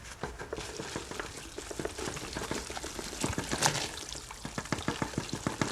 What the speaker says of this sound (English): I have already pre-measured plaster and water. What I will do is I will go ahead and mix this